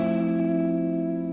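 A sustained, steady tone run through the broken-down tape machine effect of a Hologram Chroma Console pedal, holding a rich harmonic chord with subtle wavering, alone and close.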